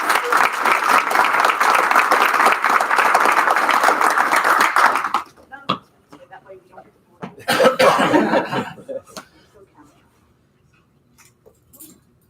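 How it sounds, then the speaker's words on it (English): A room full of people at a Board of Education public meeting applauds steadily for about five seconds, then the clapping fades to a few scattered claps and murmurs, with a brief second burst. "Let's give them another round of applause"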